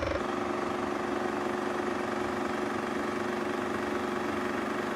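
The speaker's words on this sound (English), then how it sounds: "So that is the sound of an IMAX rig on set." An IMAX film camera rig running on a film set gives a steady, loud mechanical drone with a constant hum, continuous and unbroken throughout, with no voices.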